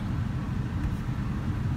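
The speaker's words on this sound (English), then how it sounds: "we're still stuck in traffic" Car creeping along in slow, jammed traffic on the only road around an island, a steady low rumble of engine and road noise close by, no voices.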